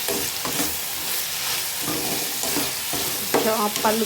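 Dal being stirred as it fries in a pan, with a steady sizzle under repeated scraping strokes of the spoon, close and moderately loud, with no voices.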